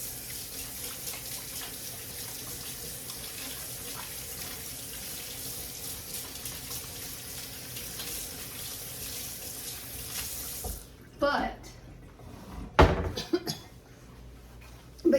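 Tap water streaming steadily into a sink during handwashing, a constant close hiss for about eleven seconds, then it cuts off, followed by a cough and a few handling noises.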